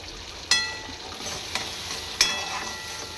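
Chili powder and turmeric go into hot oil in a pan and get stirred, giving a steady low sizzle with a few sharp clinks of a spoon against the pan.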